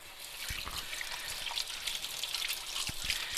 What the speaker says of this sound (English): We're going to give our hands a little wash from the oil.